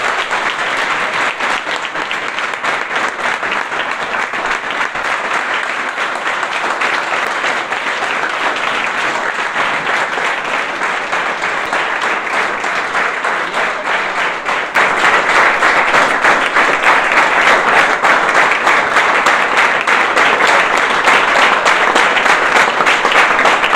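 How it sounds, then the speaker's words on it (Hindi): Studio audience breaking into loud, dense applause to welcome a guest, continuous clapping for over twenty seconds that swells louder midway and holds steady to the end. "जोरदार तालियों से उनका स्वागत करेंगे हम"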